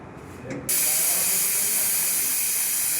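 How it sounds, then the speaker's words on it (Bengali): A pressure cooker boiling dal for dal makhani lets out a loud, continuous steam hiss that starts abruptly after a brief quieter moment and holds steady, close to the microphone. "এবার ডাল মাখনির জন্য আমরা ডালটা সিদ্ধ করে দেবো প্রেসার কুকারে"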